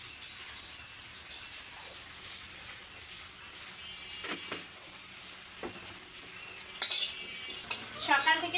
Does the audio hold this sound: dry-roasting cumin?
yes